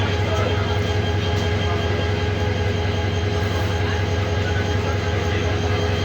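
A train bound for Mymensingh in the morning runs with a steady, loud rolling rumble and a constant hum, continuous and close throughout with no pauses.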